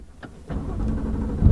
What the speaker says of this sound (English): every time you get inside the car and you start it